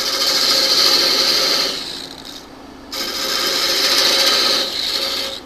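Wide, very old parting tool cutting into spinning mesquite wood on a lathe, a steady close scraping hiss that drops away briefly midway, then resumes for another long pass.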